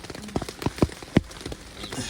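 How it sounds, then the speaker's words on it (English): Rain falls beside the River Wye, a steady patter on surfaces punctuated by several louder, close drops hitting at irregular intervals. "We're sort of marooned here until the rain dies down a little bit."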